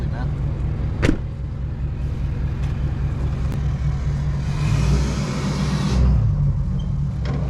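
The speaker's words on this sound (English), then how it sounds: "2016 F250 Super Duty." A 2016 Ford F250 Super Duty truck engine idling and revving, a loud steady rumble that swells in the middle, with someone talking nearby.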